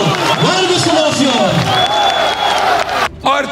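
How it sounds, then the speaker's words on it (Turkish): Crowd applause and cheering greet Burcu Köksal, the new mayor of Afyonkarahisar, at a political gathering, a dense roar of clapping and voices that drops out briefly near the end before resuming. "Büyük bir alkış"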